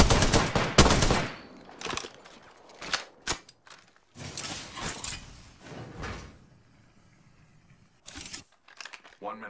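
Bursts of rapid gunfire from a firefight in the battle royale game Apex Legends, with several loud volleys close by, separated by brief gaps and short isolated shots, plus a voice talking between them.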